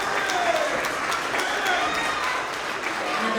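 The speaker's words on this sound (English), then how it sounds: "round of applause for all of our second grade Tigers of the Quarter" Audience at a school award assembly for kindergarten through second grade applauding second-grade Tigers of the Quarter, a full crowd of clapping hands with sharp individual claps standing out, and children's voices and chatter running underneath.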